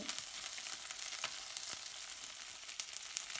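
Small fish pieces frying in a pan with a knob of butter give a steady, close crackling sizzle with scattered sharp pops, and no voices.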